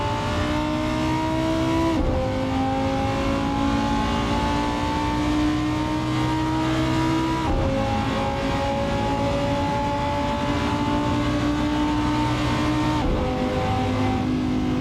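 A Lamborghini engine in the Assetto Corsa racing game, loud and close, climbing in pitch through the gears with two sharp shift drops before winding up again, running without pause and with no talking.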